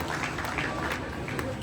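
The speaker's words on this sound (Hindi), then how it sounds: "एक बार इनके सम्मान में तालियों का अवदान" Audience applause honouring a guest at a Jain monk's sermon gathering, a brief continuous wash of clapping from a crowd in a hall, with a voice speaking over it.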